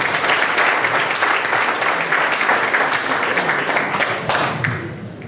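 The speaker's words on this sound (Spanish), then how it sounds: "recibamos con un fuerte aplauso a Fernando Bendezú de Tamaulipas" Sustained audience applause fills a hall at a Lima ufology congress as a speaker is welcomed to the stage, dense and steady clapping that thins out toward the end.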